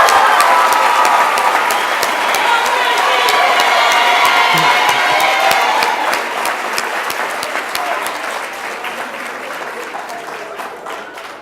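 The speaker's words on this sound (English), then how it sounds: "One more big round of applause for the class of" Big crowd applause with cheering and whoops for the graduating class of 2017 at Capital High's graduation ceremony, loud and dense at first, then slowly thinning and fading over about eleven seconds.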